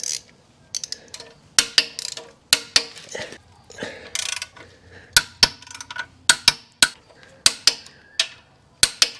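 A wrench tightens skid plate bolts on a 2024 BMW R1250 GSA motorcycle, giving a series of sharp metallic ratcheting clicks in quick bursts, close and clear with brief pauses between.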